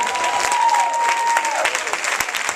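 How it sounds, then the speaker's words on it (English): A crowd claps during an enthusiastic business presentation, brisk and lively applause with a few sharper individual claps standing out and a faint sustained tone behind it, brief and fairly loud. "Yes, somebody clap for that."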